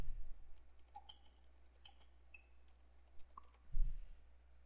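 A computer mouse gives a few quiet, sparse clicks at a desk, faint against a low steady hum.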